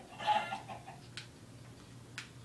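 Clucking chickens in a fishing mini game, a couple of short clucks and squawks up front, then a few brief chirps over a quiet low hum.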